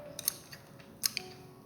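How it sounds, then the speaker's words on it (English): Scissors snip a flower stem while a bridal bouquet is arranged; two or three sharp, quiet clicks, close up against a hushed room. "Then I cut it a little bit more."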